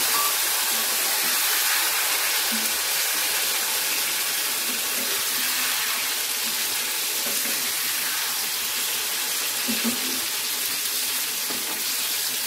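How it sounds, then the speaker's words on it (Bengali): Tomatoes for a tak jhal chutney frying in hot oil, giving a steady, dense sizzle that holds evenly throughout with no voices. "এবার আমি টমেটোগুলো ছেড়ে দিলাম।"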